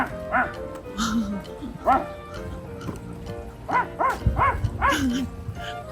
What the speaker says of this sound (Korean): 같이 짖어주시는데?